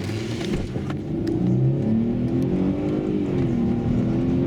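A Mercedes-Benz ML350 with the 3.5 V6 engine, fitted with a Landi Renzo gas system, is started and then settles into a loud, steady idle. The rising engine drone is close by, with no voices.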